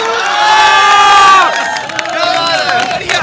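Dense crowd shouting and cheering at a road junction during a political street gathering in Kanpur, loud and close, with overlapping voices swelling then easing.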